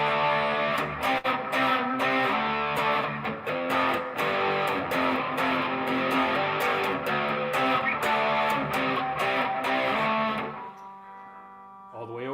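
An electric guitar played through an overdrive effect rings out with loud, sustained driven chords and rhythmic strums for about ten seconds, then cuts to a quieter lingering tone.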